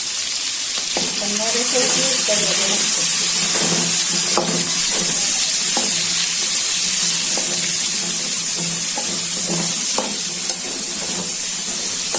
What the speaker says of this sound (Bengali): পেঁয়াজটা ভাজা হয়ে যাবে।